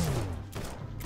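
Spaceship turrets fire in the video game Starbound as a rapid burst of gunshots, loud and close, over a descending electronic tone and a steady hum.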